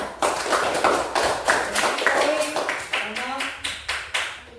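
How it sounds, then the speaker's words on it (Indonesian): Hands clap in a brisk, slightly uneven series of about a dozen sharp claps from a small group at a teacher-training session in Indonesia. A voice is heard under the clapping. "Tepuk tangan"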